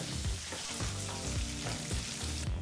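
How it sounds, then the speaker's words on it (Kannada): Onions and curry leaves fry in a pan, giving a continuous close sizzle with soft stirring scrapes recurring at regular intervals throughout. "ಈರುಳ್ಳಿ ಜೊತೆಗೇ ಸ್ವಲ್ಪ ಕರ್ಬೇವಿನ ಸೊಪ್ಪನ್ನು ಹಾಕಿ ಎರಡರಿಂದ ಮೂರು ನಿಮಿಷಗಳ ಕಾಲ ಇದನ್ನೆಲ್ಲ ಫ್ರೈ ಮಾಡ್ಕೋಬೇಕಾಗತ್ತೆ"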